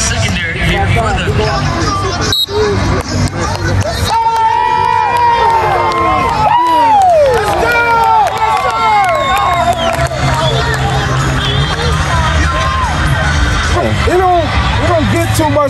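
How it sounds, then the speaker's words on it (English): Dense stadium crowd at a high school homecoming football game, Hendersonville versus East Rutherford, cheering and shouting continuously with whistles and excited voices layered over a steady roar of babble, loud and close throughout. "Look, we look at this crowd."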